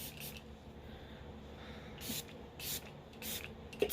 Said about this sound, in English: use the Makeup Revolution Super Fix Super Hold Misting Spray